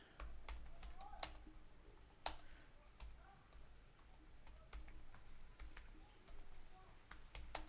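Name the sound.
typing a channel description on a computer keyboard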